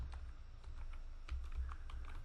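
Router configuration commands typed on a computer keyboard, with a steady run of quick, close key clicks over a low background hum.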